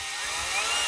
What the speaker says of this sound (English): your drill's got to go backwards